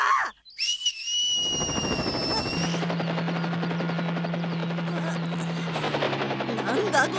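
A brief whistle rings out, then an animated cartoon helicopter's rapid rotor chopping and steady low engine drone fill the scene loudly and continuously.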